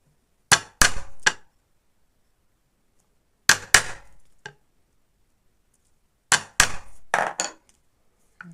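A small hand punch is struck into doll shoe parts to make lace holes, three separate bursts of sharp tapping blows, two or three hits each with brief rattles, close and crisp between stretches of silence.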